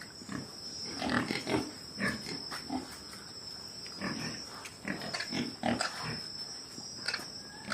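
Pigs on a pig farm grunt and snort in short, irregular bursts, several animals close by over a steady high insect-like hum in the background.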